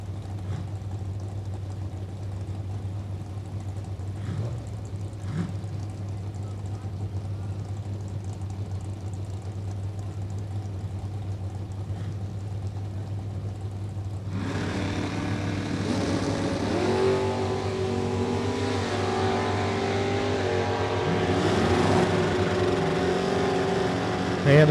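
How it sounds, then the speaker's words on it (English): Drag racing at a strip, a green Mopar against an orange Ford Mustang, with distant engine rumble that swells into a louder roar of cars launching and running down the track partway through. "Right side, little orange Mustang over there for Gilbert Artis."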